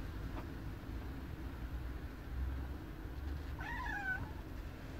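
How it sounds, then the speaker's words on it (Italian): A seven-month-old cat meows from somewhere overhead inside a camper, a single drawn-out, wavering call near the end, heard over a steady low background rumble. "Perché miagoli?"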